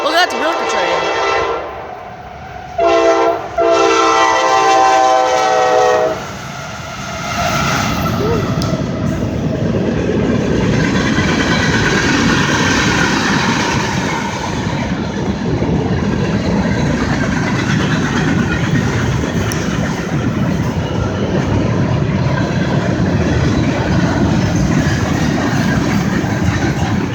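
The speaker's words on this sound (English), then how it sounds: "Look at the milk train." A short milk train rolls through downtown Fosterville, Tennessee, opening with loud horn blasts over the first few seconds, then a steady, close rumble and clatter of wheels and cars that fills the rest of the pass.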